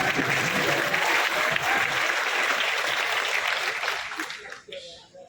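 A college audience breaks into loud, sustained applause that trails off and thins out over the final second.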